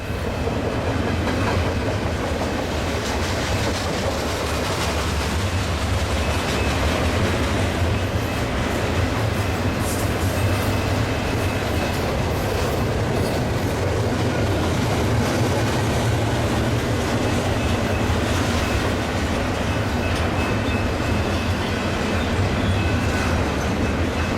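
A Union Pacific mixed freight train with Holland Rail cars rumbles steadily past at close range, a loud continuous roar of wheels and cars with faint clickety-clack running the whole time, no voices.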